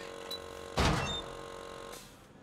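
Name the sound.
front door opening in The Culling video game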